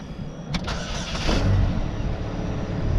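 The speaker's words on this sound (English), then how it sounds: "So now it's time to go ahead and start it" A 2008 Chevy HHR engine, with a newly fitted serpentine belt, cranks with a couple of quick bursts, then catches and settles into a steady, close running rumble with outdoor wind noise.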